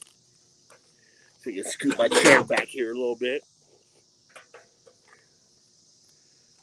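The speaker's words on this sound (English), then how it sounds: "If you hear any noise in the background, that is the cicadas that are out now." Cicadas buzz outdoors in a faint, steady high drone behind a person talking briefly up close, with a few small knocks and movements afterward.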